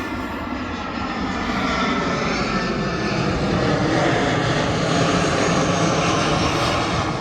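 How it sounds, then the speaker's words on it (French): An airplane passes low overhead on its approach to land at Lille, a loud steady engine roar filling the whole stretch with no talk. "là où les avions arrivent quoi, pour atterrir à Lille"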